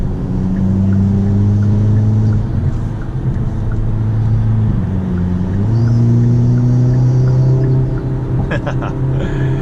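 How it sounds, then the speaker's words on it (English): Hyundai Elantra N with a Forge turbo inlet and intake cruising and pulling on a highway, a loud continuous in-cabin engine and intake drone with pitch steps as it accelerates, plus a few faint clicks near the end. "It is definitely loud, so you can definitely hear it sucking in that air, which is awesome."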